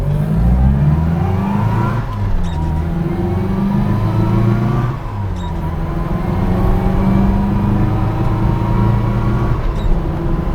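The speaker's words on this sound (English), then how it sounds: "It's such a growly, grumbly little engine." A BMC 1100's small, growly engine revs while the car drives along, a steady close-up drone that swells in pitch, dips briefly near the midpoint, then climbs again through the whole stretch with no talking.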